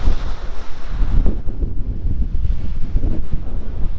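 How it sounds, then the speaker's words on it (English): Wind gusts across the beach at Double Island Point, buffeting the microphone in loud, low, uneven rumbles with surf faintly beneath and no talking. "A little bit cloudy, a little bit windy today"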